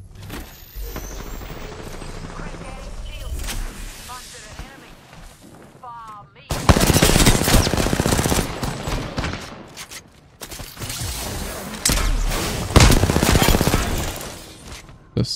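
In a video game, bursts of charge rifle and scout rifle gunfire crack loudly over game effects, and a player talks over the shooting.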